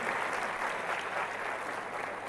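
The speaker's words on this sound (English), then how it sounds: "I want to have a big round of applause to the people who are sitting over here" Steady audience applause during a business presentation, a dense even wash of clapping from a seated crowd that holds at a moderate level throughout.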